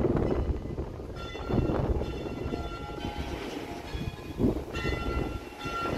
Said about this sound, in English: I don't know if you guys can hear the cute bells.